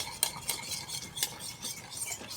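A spoon stirs and scrapes thick guava halwa in a pot, with repeated close scraping strokes and light metallic clinks at an uneven rhythm, and no voices.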